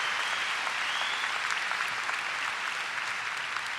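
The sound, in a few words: applause for armed forces at graduation commencement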